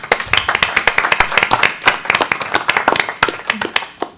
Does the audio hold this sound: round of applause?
yes